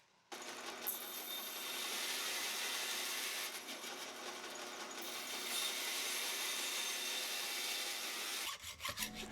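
A bandsaw cuts slowly through micarta knife handle material, a loud continuous rasping grind with slight surges in strain, close up, ending in a few clattering knocks as the cut finishes.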